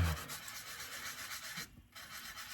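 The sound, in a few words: sanding the paint on a scale model car body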